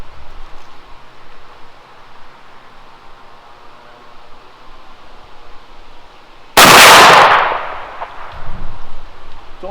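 A single loud 20 gauge slug shot from an H&R Ultra Slug Hunter compact fires at an outdoor range, a sharp blast that decays over about a second against steady background hiss, with no talking.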